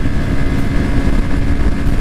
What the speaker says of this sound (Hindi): ये मैंने फुल एक्सेलरेट कर दिया है मोटरसाइकिल को, 7000 RPM से क्लाइंब करना शुरू कर रही है